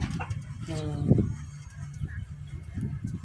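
A rooster gives a short harsh call near the start, followed by scattered soft clucks and faint background noise.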